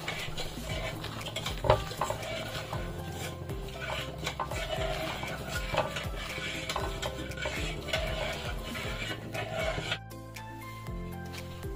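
A spatula stirs and scrapes flour frying in a pan for white sauce pasta, making repeated rhythmic scraping and light clinks close up, with a soft sizzle beneath and a brief pause near the end.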